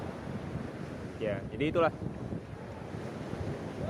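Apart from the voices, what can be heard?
waves and wind at Nipah Beach, North Lombok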